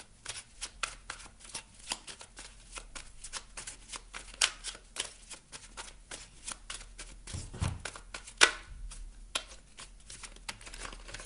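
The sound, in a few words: shuffling oracle cards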